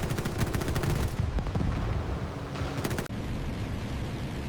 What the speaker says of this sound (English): The German fighters discharge their deadly 20mm guns, filling the air with tracers as the guns from the fortresses come alive